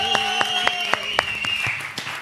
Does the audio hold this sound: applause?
yes